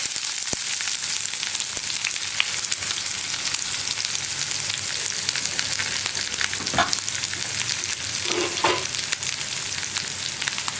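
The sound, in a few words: onion and curry leaves frying in oil, stirred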